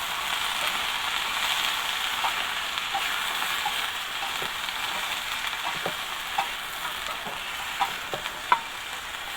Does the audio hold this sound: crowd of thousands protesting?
no